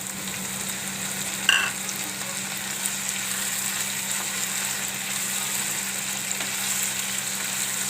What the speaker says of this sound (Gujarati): તો હવે આપણે આ ટમેટાં એમાં નાખી દેવું.